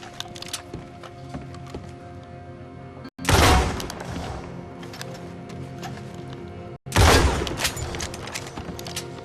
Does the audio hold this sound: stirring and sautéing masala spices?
no